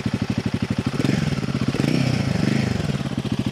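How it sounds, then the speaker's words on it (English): A Royal Enfield Guerrilla 450 motorcycle idles close by, its exhaust thumping in an even, rapid pulse that swells slightly louder in the middle before settling back. "Exhaust, that's the exhaust note."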